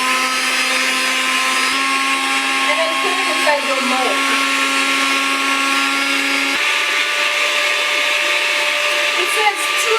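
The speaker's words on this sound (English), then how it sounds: "let's start our blender." A kitchen blender runs steadily throughout, a loud continuous whine with a slight pitch drop partway, blending ingredients for cinnamon rolls while someone speaks briefly over it.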